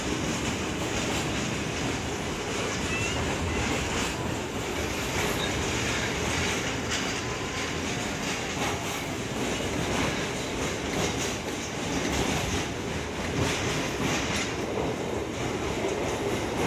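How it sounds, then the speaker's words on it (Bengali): A circular rail commuter train running and turning left, with steady rolling rumble, wheel-on-rail rattle and faint squeal throughout, a continuous, fairly quiet interior ride sound with no talk. "এবার ধরুন ট্রেনটি বাঁদিকে টার্নিং বা টার্ন করছে"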